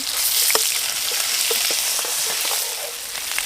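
Onions and green chillies fry in oil with fenugreek seeds for a crab curry, a constant close sizzle broken by small pops and crackles.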